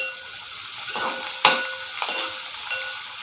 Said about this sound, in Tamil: லேஸாக நமக்கு இந்த வெங்காயம் வதங்கி வந்தால் போதும் இப்போ கொஞ்சம் வதக்கி எடுத்துக்கிறோம் நாம்